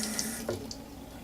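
Tap water runs briefly over an item being rinsed, a soft close splash of flowing water with a few brief spatters, heard alone with no talking.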